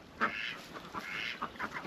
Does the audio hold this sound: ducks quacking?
yes